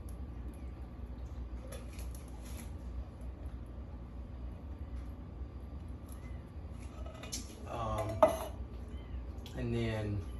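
Pinto beans tipped into a metal pot while cooking chili, with clattering and scraping of a utensil against the pot, a sharp clank near the middle and brief bursts of stirring toward the end, over a low steady hum.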